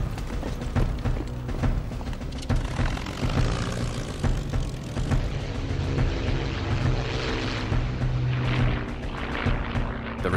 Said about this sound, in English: Six Spitfires from 74 Squadron, based at Hornchurch, are scrambled.